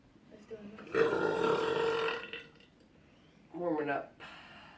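A mother's loud, drawn-out burp lasting over a second during a mother-versus-son burping challenge, followed by a shorter rumbling burp, indoors with a slight echo.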